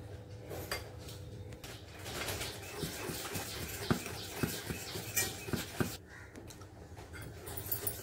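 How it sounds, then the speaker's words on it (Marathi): A whisk beats curd with cumin and coriander in a bowl for dahi vada, giving a steady run of close metallic taps and scrapes against the bowl, with a few sharper clinks toward the middle. "फेटण्याने फेटायचं आपल्याला।"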